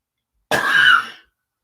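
A single short, raspy cough close to the microphone, alone in silence.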